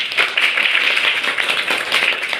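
An audience claps at a motivational talk on growth mindset, a dense, steady burst of applause that runs the whole stretch, close and fairly loud, with no speech over it.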